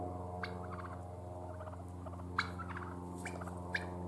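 Chickens, including bluish-egg-laying Skyline hens, in a bee-friendly July garden make soft, repeated clucking and gobbling calls with a few sharper squawks, heard at moderate distance over a steady background hum.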